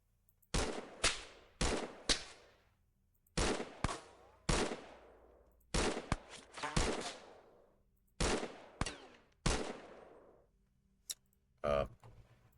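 Automatic gunfire in the XCOM video game: several separate bursts of rapid shots, loud and close, each trailing off in a short echo, with quiet gaps between bursts.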